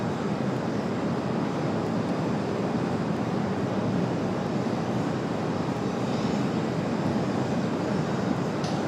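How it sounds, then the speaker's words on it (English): At Raleigh-Durham airport, an Aer Lingus airliner on a go-around gives off a sustained, broad jet roar that stays steady and fairly loud for the whole stretch, with no talk. "Aer Lingus going around."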